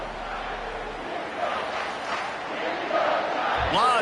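Home stadium crowd in the College Football 25 video game, Tennessee versus LSU, roars steadily as the defense faces third down, the broad cheering noise swelling louder toward the end.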